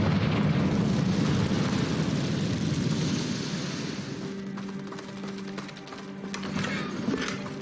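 A fiery Confringo spell blast in Hogwarts Legacy erupts with a loud, roaring burst that slowly fades into a low rumble and lingering crackles, with faint hum and clatter trailing at the end.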